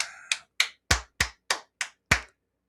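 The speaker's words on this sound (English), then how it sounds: "You're clapping, Bubba?" A person claps hands roughly eight times in a quick, slightly irregular rhythm, each sharp close and loud, alone with no talk, before a short silence.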